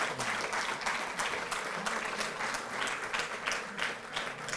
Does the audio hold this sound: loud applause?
yes